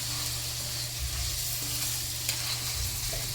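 Garlic and onion sautéing in a pan at an eatery, a steady close sizzle with occasional scrapes of stirring, no talking.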